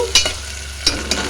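Chopped onion pieces sizzle in hot oil in a pot, with a few distinct scraping stirs of a spoon over a soft steady fry, heard alone and fairly quiet.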